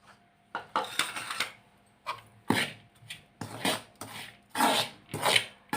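Cabbage cutlet mix of shredded cabbage, chopped coriander leaves and black pepper powder is stirred and scraped in a bowl, making a series of close, soft rubbing and scraping strokes in an uneven rhythm.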